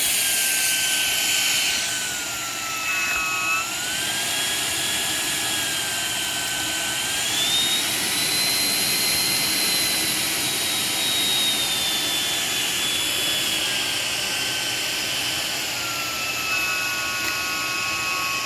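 Shark PowerDetect cordless stick vacuum, model IP1251, running continuously with a loud, close, high-pitched motor whine that shifts slightly in pitch as it works, with no speech.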